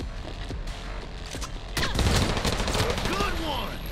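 Bursts of gunfire from the video game Cyberpunk 2077, sustained rapid shots with heavier impacts midway, loud and continuous throughout the gameplay action.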